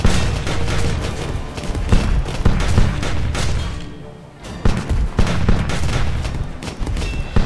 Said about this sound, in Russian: поэтому там будут бить простые пушки